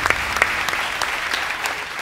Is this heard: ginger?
no